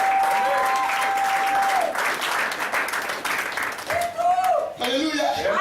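A church congregation erupts in loud, sustained applause and acclamation for Jesus, thick clapping with shouts and whoops rising above it, the cheering swelling again near the end.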